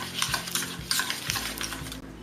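Room-temperature butter is beaten by hand with a whisk in a mixing bowl, giving a steady run of soft scraping and clicking strokes against the bowl, close and moderately loud, with no talking.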